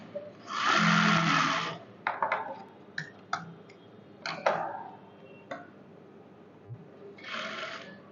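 A sewing machine runs a stitch line on white fabric, with a steady whirring burst at the start, then scattered clicks and short taps, and another brief run of stitching near the end, fairly quiet and close.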